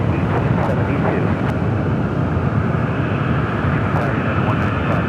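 Airliner taking off at San Francisco International Airport, a steady, loud jet roar rumbling continuously throughout with no break.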